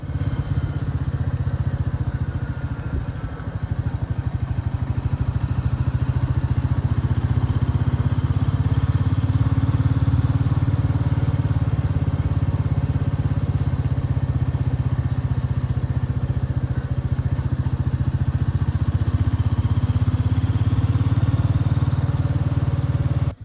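A motorcycle engine running in gear as the throttle is slowly raised and eased, giving a loud, continuous low drone that swells and settles with no one speaking.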